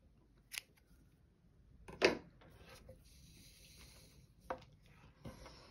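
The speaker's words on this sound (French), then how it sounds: "Je viens couper donc mon fil vert." Scissors snip through green crochet yarn in a quiet room, giving a couple of short, soft cuts among faint handling sounds.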